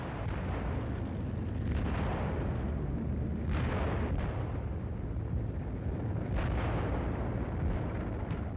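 World War One mortar and artillery fire on a battlefield, heard as a continuous low rumbling barrage with several heavier booms rising out of it, steady and moderately distant, with no voices.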